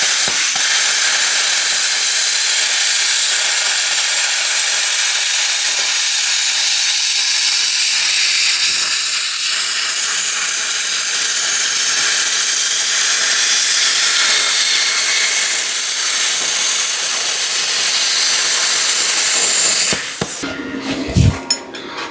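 A plasma cutter slices through quarter-inch steel, a loud steady hiss running unbroken for about twenty seconds before cutting off abruptly, followed by a few clunks.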